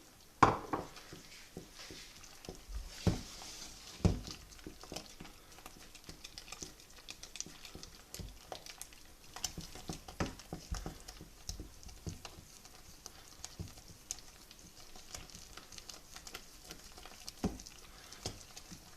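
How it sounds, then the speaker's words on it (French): Flour and dough are stirred into boiling water, butter and salt in a pot for choux pastry, giving soft, irregular scraping and tapping of a utensil against the pan, faint and close. "je vais rajouter d'un coup sec la farine et je vais commencer à mélanger"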